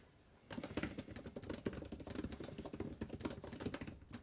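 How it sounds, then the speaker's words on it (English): Rapid, steady keystrokes clatter on a Dell 14 Premium laptop keyboard after a brief quiet moment, a close, even patter of light clicks. "So typing on the Dell Premium 14"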